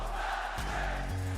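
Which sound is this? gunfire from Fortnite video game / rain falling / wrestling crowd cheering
wrestling crowd cheering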